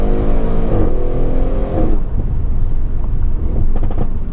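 An Audi RS6 Performance (605PS) engine hums and revs loudly, then drops off into irregular popping and crackling from the exhaust on overrun as the throttle lifts.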